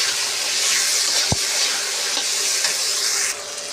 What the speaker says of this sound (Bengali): তো মটরশুঁটি দিয়ে দিলাম এবং ভালো করে আমি কষে নেব।